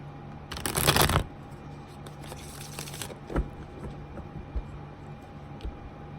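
A burst of tarot cards being shuffled up close, a riffle lasting under a second, followed by softer sliding and tapping of cards.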